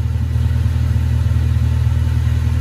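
A 1995 Honda Civic engine, freshly fitted with a Bosal catalytic converter, runs at a steady idle close by, a loud, even low rumble with a rapid regular pulse and no talking.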